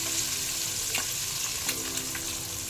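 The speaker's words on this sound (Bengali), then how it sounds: "এবারে ডিমটা ভাজা হয়ে যাবে" An egg fries in a pan with a steady, bright sizzle and crackle close by, broken by a couple of faint scraping stirs.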